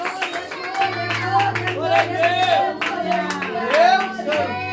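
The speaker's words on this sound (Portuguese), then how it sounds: "Exalte o Senhor com as palmas." A congregation claps along during a lively Portuguese-language revival church service, the rhythmic claps mixed under singing voices and sustained musical tones.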